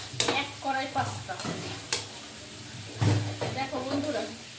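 Pasta is stirred in a kadai, making intermittent scraping strokes over a soft sizzle, with a voice talking over much of it.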